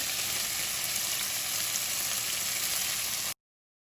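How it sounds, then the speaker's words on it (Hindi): Steady, loud sizzling fills the whole stretch as cooked rice with turmeric, lemon juice and salt is mixed in a hot pan, a continuous close frying hiss with no voices before it cuts off abruptly. "अब अच्छे से इनको मिक्स कर लेंगे"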